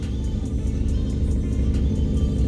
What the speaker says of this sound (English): I say as a very noisy car goes by